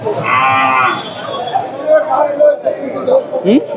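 Cattle at a busy cow market, with a loud drawn-out moo close by at the start, then crowd chatter and people talking amid the market bustle.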